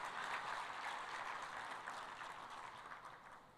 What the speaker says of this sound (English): Another round of applause for keynote address.